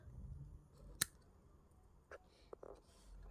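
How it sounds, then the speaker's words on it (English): Cutting the tail end of jewelry wire wraps, a single sharp, close snip of the cutters, followed by a few faint small clicks in a quiet setting. "So take the tail end of those wraps and we'll cut that."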